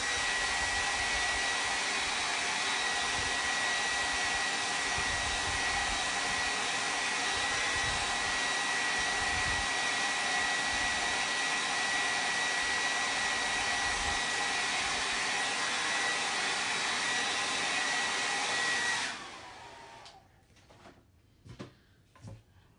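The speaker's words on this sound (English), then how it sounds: "Let me blow dry it so it's nice and dry." A hair dryer blows steadily and loudly on a chalk sign for about nineteen seconds, then switches off, leaving a few faint knocks and handling sounds.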